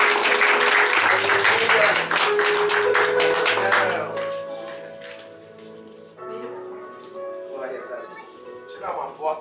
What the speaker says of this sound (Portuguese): Dê uma salva de palmas para o nosso Senhor.